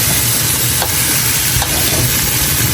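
Sweet and sour mixture with pineapple tidbits and a pinch of salt stirred in a pan, giving a loud, steady sizzle with faint scraping strokes throughout and no voices.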